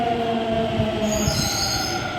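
A Delhi Metro train pulling into a station, a steady rumbling roar with high wheel squeal and tonal motor whine, continuous and close, with no talking.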